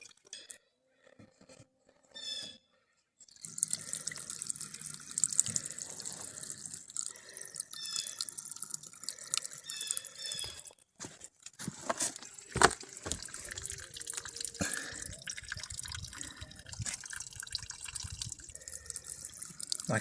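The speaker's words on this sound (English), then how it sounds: "start running the fresh water through it" Fresh water runs through the plumbing of a pop-up camper, a steady broadband splashing and trickling flow with dripping, starting after a brief quiet opening and continuing loud and close to the end.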